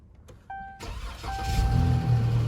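A Dodge Charger from a salvage auction yard starts up: chimes and a brief crank, then the engine catches and settles into a rising, steady idle, close by and without talk.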